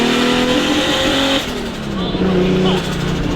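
A turbocharged Nissan Skyline GT-R engine revs loudly and continuously while the car is driven, its throaty roar close and steady with a brief dip in pitch midway, and a voice speaks over it.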